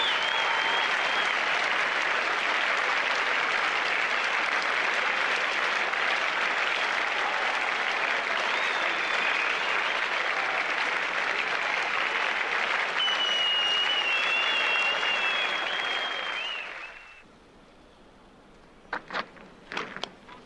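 A cricket Test match crowd of several thousand applauds a dismissed Steve Waugh in a long, dense, sustained ovation with whistles over it. The clapping fades out near the end, leaving a few scattered claps and near silence.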